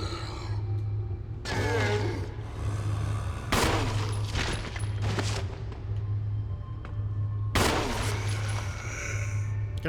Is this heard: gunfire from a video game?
yes